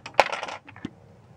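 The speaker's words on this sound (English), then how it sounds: "Knocked a part down in there." A small model-building part for a wargaming terrain board with fox holes and trenches drops and clatters, giving a sharp tap, a short rattle, then a second light tick before quiet.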